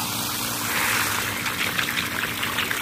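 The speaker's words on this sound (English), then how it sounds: "Now just get some clean water." Clean water gushes out in a steady, fairly close pour that swells slightly partway through, with a bubbling, splashing texture and no speech.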